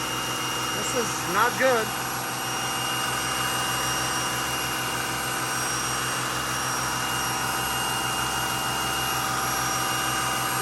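Steady high-pitched turbo whine from an NCV3 Mercedes Sprinter engine with a low-boost fault, droning continuously at close range beneath a brief spoken comment.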